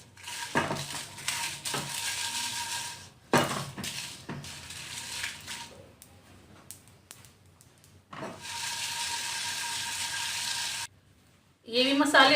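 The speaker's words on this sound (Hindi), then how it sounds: "अब मैं रोस्ट करूंगी ये बाकी के मसाले" Spices for Kolhapuri chicken being dry-roasted in a pan after coconut, with bursts of sizzling and scraping stirs as the pan is worked, pausing between spells and ending in clattering utensil knocks.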